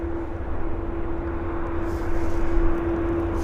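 An Air Canada Boeing 787-9 Dreamliner on approach gives a steady, loud jet roar with a constant whining tone, continuous and unbroken, no talk.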